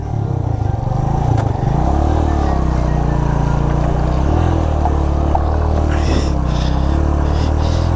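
A motorcycle rides through a small, clear water crossing on an off-road mountain route to Shandur Top, its loud engine droning steadily up close with occasional clattering as it moves through.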